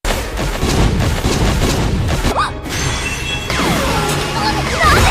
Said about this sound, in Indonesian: monster itu kembali melepaskan ledakan energi yang hampir saja menghantam Annelie